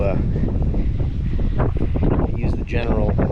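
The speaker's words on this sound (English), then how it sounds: "Wind is blowing." Strong wind gusts roar across a microphone outdoors at a house site before Hurricane Ian arrives, a loud continuous rumbling buffet that fills the whole stretch, with a voice speaking faintly underneath.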